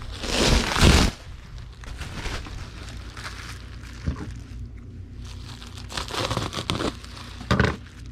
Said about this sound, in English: We'll get a sheet of bubble wrap and we'll cut it in half.